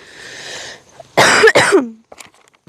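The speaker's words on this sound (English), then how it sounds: "I didn't realize I just coughed right into my mic." A single close, loud cough right into a microphone, a sharp burst with a throat-clearing edge, set between quieter stretches with faint background hiss and a few small clicks afterward.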